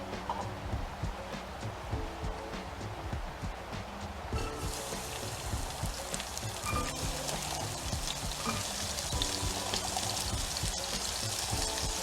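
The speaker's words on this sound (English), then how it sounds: "start stewing, or not really stewing, but sauteing the onions" Onions sauteing in about a tablespoon of oil in a pan for a bell pepper sauce, giving a steady crackling sizzle that holds at an even level, close and continuous throughout.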